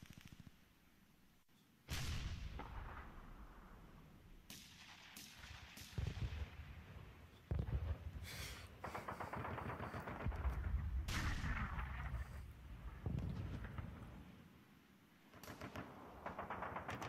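Sharp gunfire sound effects crack out in separate loud bursts and volleys for the defensive fire phase of an Advanced Squad Leader wargame, with short quieter gaps between the shots.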